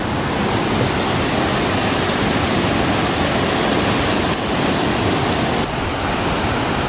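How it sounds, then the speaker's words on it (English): A waterfall at Eagle Creek in Oregon roars as a loud, dense, unbroken rush of falling water close by, filling the whole stretch with steady broadband noise and no voices. "Wow, there's another waterfall right there."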